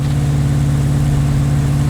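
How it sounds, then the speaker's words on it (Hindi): A Mahindra car engine in GTA 5 holds a loud, steady drone above 2000 RPM, a continuous buzzing hum with no pauses. "अबे जिमी, ये 2000 आरपीएम से ऊपर जा रहा है इसका इंजन।"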